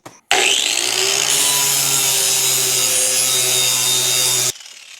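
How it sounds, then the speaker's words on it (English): A power grinder whines loudly and steadily against a lawnmower blade, starting abruptly and cutting off after about four seconds. "So to adjust it, put it in here and grind it."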